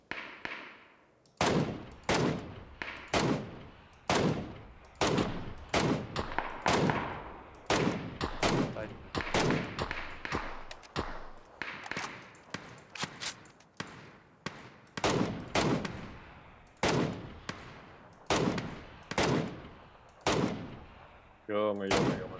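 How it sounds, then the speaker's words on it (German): Repeated gunfire in the battle-royale video game PUBG: Battlegrounds, loud sharp single shots in an irregular but steady series, some close together, with players talking briefly in between. "Irgendwo hier links oben bei mir sind noch Schüsse."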